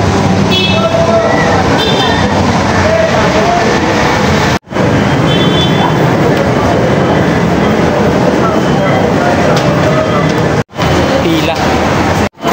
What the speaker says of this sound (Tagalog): LRT station.